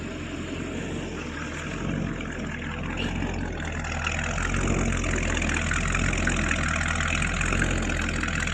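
A 1972 Chevy K10 pickup with aftermarket engine parts and fairly quiet mufflers idles nearby. The rumble is steady and continuous and grows slightly fuller partway through.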